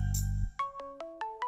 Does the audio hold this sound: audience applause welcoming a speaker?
no